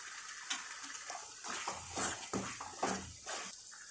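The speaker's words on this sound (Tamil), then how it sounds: "இதில் நம்ம தேவையான அளவுக்கு தண்ணி ஊற்றிப்போம்." Water poured into a cooking pan of soya chunk gravy with potatoes, splashing and sizzling in a series of bursts close by, with no talking.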